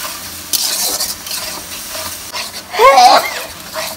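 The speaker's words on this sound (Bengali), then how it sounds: "ধনিয়া গুঁড়া আর আদা বাটা দিয়ে আবারও ওই যে কাঁচা ঝাল পেঁয়াজের সাথে সুন্দরভাবে কষাচ্ছে" Coriander powder and ginger paste sauté with onion and green chili in a home kitchen pan, a steady sizzle with stirring scrapes and a brief brighter clatter near the end.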